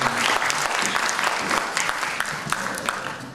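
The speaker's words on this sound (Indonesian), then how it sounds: "mari kita aplaus sekali lagi pada grup" An audience claps steadily after a wayang performance, a dense wash of applause from a crowd at a traditional Kalimantan puppet show, fairly near and tapering slightly toward the end.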